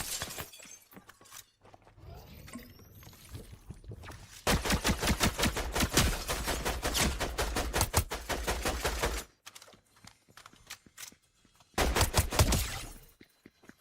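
Shotgun fire in a battle royale video game, dense bursts of sharp, cracking blasts in rapid succession, with a long loud volley midway and a shorter burst near the end, separated by quieter stretches.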